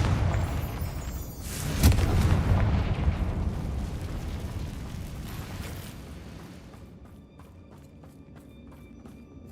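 A Confringo explosion spell bursts in Hogwarts Legacy, a sharp blast near two seconds followed by a long rumbling fiery roar that slowly fades to quiet ambience.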